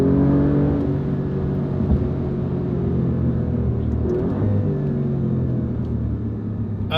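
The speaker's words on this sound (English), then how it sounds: "Let's hear the exhaust again." An Alfa Romeo Giulia Quadrifoglio engine rumbles deeply with its exhaust droning and rising slightly in pitch as it revs, steady and close, without any voices.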